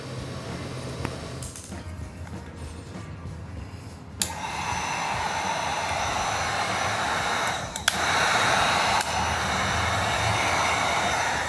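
Wagner Furno 300 heat gun switching on and blowing hot air, a steady broadband whoosh that starts abruptly partway through, with a brief click and a step up in airflow later, after a quieter opening.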